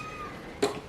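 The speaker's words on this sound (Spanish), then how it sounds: "El gato." A single short cat meow rises near the end after a quiet indoor stretch, close and fairly loud against low room noise.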